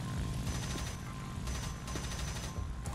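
Rapid aircraft machine-gun fire in War Thunder, a La-5FN dogfight, with bursts of dense rattling shots repeating over about three seconds, loud and close over a constant engine drone, no talking.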